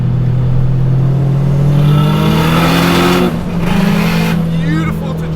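Turbocharged K-swapped Honda Integra Type R DC2 pulling hard under acceleration, a loud steady engine drone rising gradually in pitch over several seconds, with a brief dip before climbing again.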